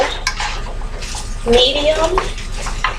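Chicken burrito filling stirred in a pan over medium-low heat, with a few close metallic clinks and scrapes of a utensil against the cookware under a person talking.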